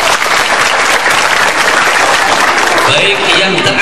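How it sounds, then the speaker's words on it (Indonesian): Loud, dense applause from a large audience at an outdoor religious gathering, sustained clapping filling the whole moment with a faint voice near the end. "Tepuk tangan paling meriah buat."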